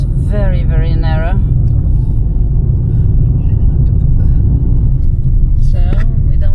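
A car drives along a narrow road in northern Martinique, its engine and tire rumble steady and loud throughout, while people speak briefly over it.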